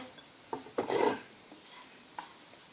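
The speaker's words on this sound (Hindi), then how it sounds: "अब मैं इसमें ये नारियल डाल के इसको भूनती हूँ" Grated coconut roasting in ghee in a pan, stirred with a few soft scraping and rubbing strokes, one longer rasp in the middle, quiet and close.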